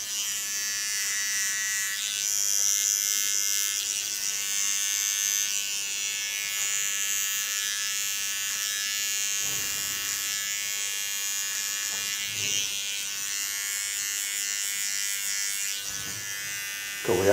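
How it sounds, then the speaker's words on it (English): An electric hair clipper buzzes steadily as it trims hair along a comb behind the ears and neckline during a feminine pixie cut, a continuous high whine with slight changes as it moves. "Go back to my clipper again."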